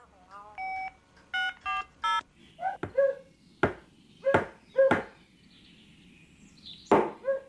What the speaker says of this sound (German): Ich rufe gerade den Bob an